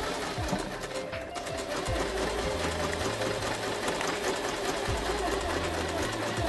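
A Kreshay sewing machine runs steadily through a triple zigzag stitch, its needle clattering in a fast, even mechanical rhythm with a low motor drone underneath, loud and close throughout.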